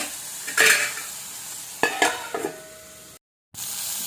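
Tomatoes frying in a pan for vadiyalu pulusu curry, a steady sizzle broken by a few louder bursts of stirring scrapes, then a brief gap before the sizzle resumes.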